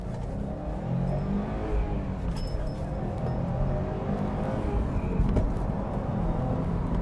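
A 2018 Subaru WRX STI Type RA, its 2.5-liter horizontally opposed four-cylinder engine pulling hard with no easing into the throttle, gives a steady, loud low rumble that swells slightly over about seven seconds, heard from inside the car.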